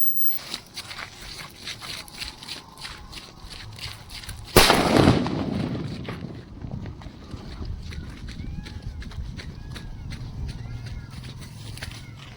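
A firecracker taped to a football goes off in one sharp, loud blast that decays over a second or two, amid outdoor ambience, light footsteps-like clatter and talking before and after.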